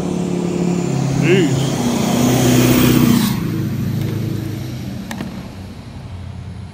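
A truck engine revved hard at full throttle, its pitch rising and surging close to the microphone for about three seconds before dropping back, with a man's brief exclamation over it.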